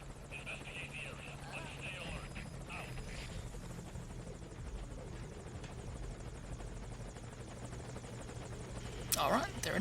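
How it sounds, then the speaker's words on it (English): A helicopter arrives in Metal Gear Solid V: Ground Zeroes as a steady rotor drone holds under background voices, ending in a sudden louder burst near the close. "So all we need to do is get on board the helicopter"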